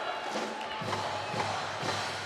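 A crowd cheering at a Wisconsin at Marquette volleyball match, a steady broad roar with swells of applause throughout, heard over a commentator's voice.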